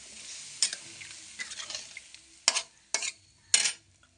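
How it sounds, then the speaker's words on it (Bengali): Water is poured into a pan of potatoes frying in oil, setting off a soft sizzle. A few louder scraping stirs follow at uneven intervals, close by, with no voices. "এখন আমি অল্প করে জল দেব যাতে আলুটা আদা সিদ্ধ হয়ে যায়"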